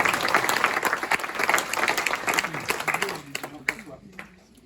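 Indoor audience at a book fair inauguration in Saint-André bursts into sustained, fairly loud clapping that thins out toward the end, with a voice beginning to speak as the applause fades.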